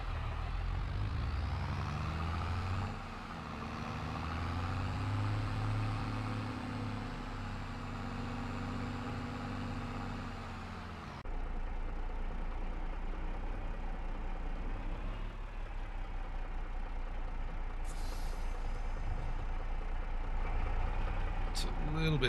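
A tractor engine in Farming Simulator 22 drones steadily and fairly loud throughout, with a shift in its tone partway through and a brief high hiss near the end. No one speaks.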